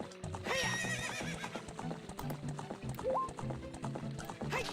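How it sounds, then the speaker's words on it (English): Epona the horse in Ocarina of Time whinnies loudly while steady hoofbeats clip-clop along beneath game music, the rhythmic trotting running throughout, with a rising chime partway through. "And we'll do that on our horse."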